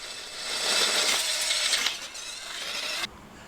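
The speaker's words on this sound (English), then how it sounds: "it's not just my rear rim that's getting a drilling" A power drill whines as it bores holes into a metal bicycle rim, loud and sustained for about three seconds, then cuts off abruptly.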